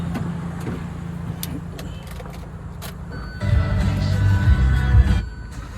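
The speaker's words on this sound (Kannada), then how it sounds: "ಗಾಡಿ ಆನ್ ಮಾಡಿ AC 3 ಪಾಯಿಂಟ್ ಆನ್ ಮಾಡಿ." A car idles steadily with its air conditioning on, a low engine hum that thickens midway as the AC blower and compressor kick in, with a few light clicks and no talk.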